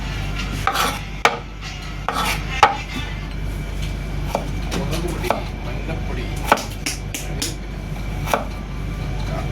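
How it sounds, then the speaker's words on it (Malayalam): Tomatoes are chopped into small pieces with a knife on a board, a run of sharp, irregular close taps over a steady low background hum, with no talk. "തക്കാളി ചെറിയ പീസാക്കണം"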